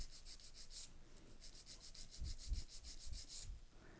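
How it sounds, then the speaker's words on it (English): A 180-grit zebra nail file shapes a sculpted nail into an almond form, rasping in quick, even back-and-forth strokes in short bursts, soft and close with no talking. "Now I'm going to shape the nail with my long-lasting 180 zebra."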